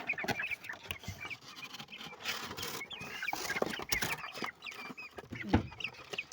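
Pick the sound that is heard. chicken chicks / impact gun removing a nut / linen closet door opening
chicken chicks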